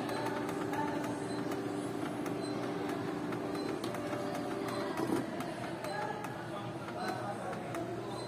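A Canon G-series inkjet printer runs a test print, giving a steady mechanical whir and rumble with regular light ticks and clicks throughout.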